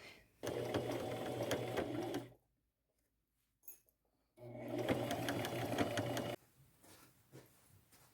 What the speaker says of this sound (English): Now I'm going to sew these on.